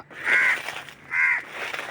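Crows perched in a tree above their fallen chick give two harsh, drawn-out caws, fairly close and loud with a short pause between them.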